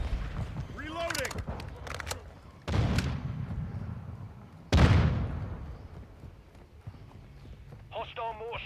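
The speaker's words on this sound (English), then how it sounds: "Hostile mortar strike near your position." Mortar strike from Call of Duty Modern Warfare II, with two heavy impacts a couple of seconds apart, each a sudden loud thump followed by rumbling decay, amid gunfire, footsteps and radio chatter from the game.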